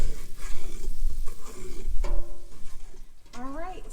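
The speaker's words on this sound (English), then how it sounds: "so I'll keep stirring and show you guys what it looks like in a few minutes" Seafood gumbo roux stirred in a pot, a spoon scraping steadily through the thick mixture with a soft sizzle; brief tonal clatters rise near the end, and the stirring runs close and fairly loud.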